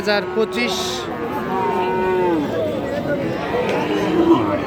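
Friesian and crossbred bull calves at a busy rural cattle market in Dinajpur moo loudly and repeatedly, long drawn-out calls over a constant crowd murmur with people talking nearby.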